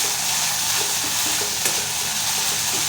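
Ginger garlic paste is stirred into a frying curry, with a constant sizzle and scattered soft scraping and stirring sounds coming through close by.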